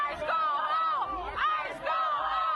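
An angry crowd of protesters confronting federal immigration agents in Chicago yells and chants in rising, overlapping voices, coming in repeated surges at a moderate distance.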